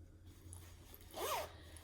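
A pocket zipper on a Vera Bradley Hadley crossbody bag with pleather pulls is drawn once in a quick, fairly close rasp lasting about a third of a second, over faint background hum.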